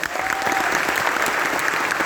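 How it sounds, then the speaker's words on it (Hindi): An indoor audience at a business seminar claps loudly and continuously, a dense wash of many hands with no pauses throughout. "इसके लिए एक बार जोरदार तालियां"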